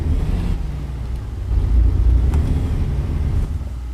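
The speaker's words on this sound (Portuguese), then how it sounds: "Acho que eu aumentei demais o som do caminhão." A truck engine in American Truck Simulator rumbles low and steady with the game volume turned up loud, swelling slightly in the middle before settling back to a constant drone.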